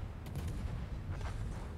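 Cannon fire in a tank battle video game on the Friesland map: a low rumbling backdrop punctuated by two muffled booming shots, one early and one about a second later.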